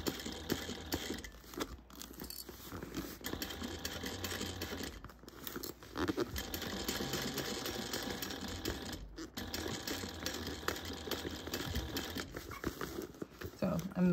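A sewing machine stitches all the way around the edge of a fabric bag in a steady, continuous close-up mechanical patter with a few brief pauses.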